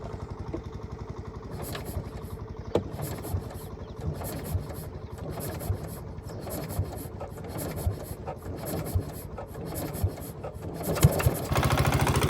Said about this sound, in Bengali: ফাইনালি আমাদের মেশিন স্টার্ট উঠেছে